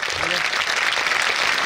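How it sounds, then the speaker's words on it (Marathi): An audience at a school's annual social gathering applauds loudly and continuously, with dense clapping close by and voices mixed in. "आणि जोरदार टाळ्या होऊ द्यात."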